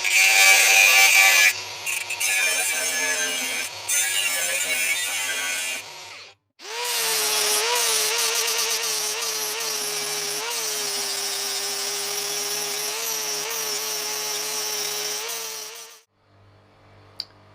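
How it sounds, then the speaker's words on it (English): A power tool cuts off old welds on a steel box for a BMW being fitted with a power steering pump, a loud, continuous grinding whine running several seconds, briefly stopping, then resuming steadily before cutting out near the end. "I'm going to cut those nasty welds off and redo"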